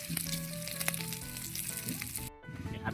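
Cold leftover rice sizzles loudly in a hot pan with bangus nearby, a steady crackling fry with harmonic tones, then a brief dip near the end before the sizzle resumes.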